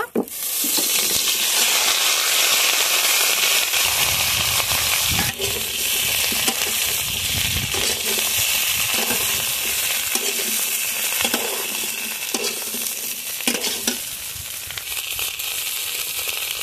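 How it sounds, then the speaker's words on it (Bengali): Cauliflower frying in hot oil in a wok crackles in a loud, close sizzle that swells as the pieces go in, broken by stirring scrapes and small pops, with no talk. "তেলের মধ্যে ফুলকপিটা দিয়ে দেব।"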